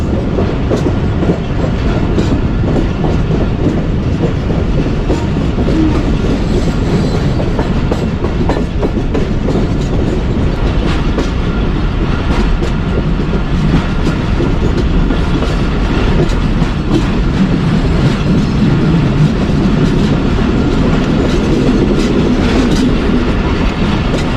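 The Pak Business Express rolls steadily along the rails under a caution order, heard from on board as a continuous loud rumble with a fast, even clickety-clack of wheels over the track joints.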